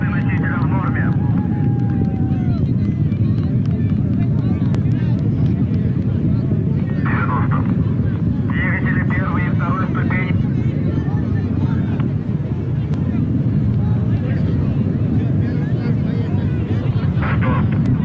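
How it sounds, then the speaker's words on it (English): Soyuz-2.1a rocket first stage engines roar during launch from Baikonur, a loud, steady low rumble throughout with an announcer speaking over it. "Engines of the first stage continue to operate as expected."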